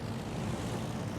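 Carrier aircraft flying in the naval game World of Warships Legends, a continuous broad propeller engine drone with a low rumble, steady and fairly loud throughout.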